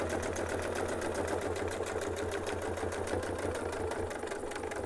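A sewing machine stitches a clamshell quilting pattern using a template, running in a steady, fast mechanical rhythm with a low motor hum, close and continuous throughout, with no talking.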